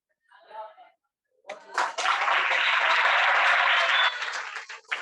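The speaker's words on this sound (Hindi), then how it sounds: "अरे ताली वाली क्या बात है" Loud, dense clapping from a classroom audience swells up after a short spoken phrase and holds steady for several seconds before easing off.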